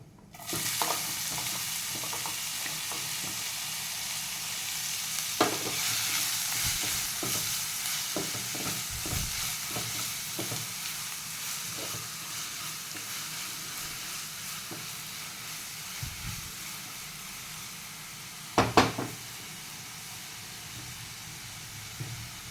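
Onions fry in a pan with whole spices such as black cardamom for dhaba-style paneer bhurji, giving a continuous soft sizzle and hiss broken by scraping stirs and a couple of louder clanks near the end.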